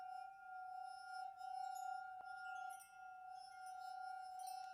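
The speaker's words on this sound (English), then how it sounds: "Like a clinking." Faint glassy clinking in the video game Suicide of Rachel Foster: a sustained ringing tone with a few soft, sharp chinks scattered through it, quiet and distant, no voices.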